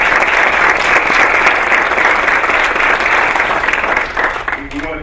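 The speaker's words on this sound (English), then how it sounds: "So let's give Amy and that team a round of applause." Full, steady applause from a school board meeting audience fills the room, holding strong before thinning out near the end as it fades.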